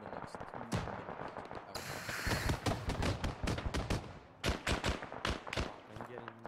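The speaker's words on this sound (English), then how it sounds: "Shots close." Rapid gunfire close by in the military shooter Arma 3, a dense burst of sharp cracking shots in irregular clusters running through most of the stretch, loud and near, with a brief pause before more shots.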